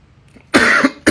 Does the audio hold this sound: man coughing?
yes